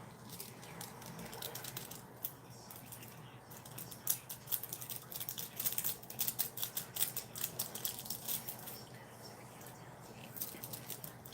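Small barber scissors snip over a hand in a run of quick, light cuts, a dense patter of close clicks and rustles over a faint background hum.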